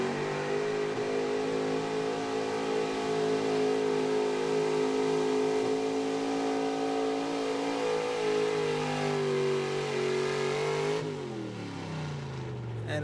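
A 1977 Ford gas 4x4 pulling truck at an Eastern Pennsylvania truck pull roars loud and steady under load for about eleven seconds, then its engine note drops sharply as the pull ends.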